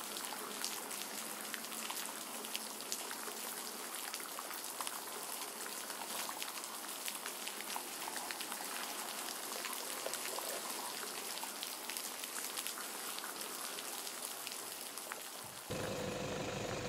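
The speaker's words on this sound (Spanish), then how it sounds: "todavía con la lluvia apretando fuerte" Heavy rain pours steadily during a roe deer hunting outing, a dense continuous hiss of drops that stays loud and even throughout, with a brief change in tone near the very end.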